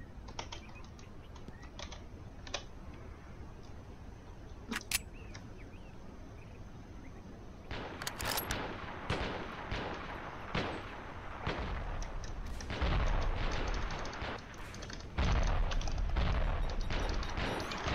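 Gunfire in the video game Ravenfield comes as scattered distant shots at first, then builds into dense, rapid bursts and heavy booming volleys that grow louder toward the end.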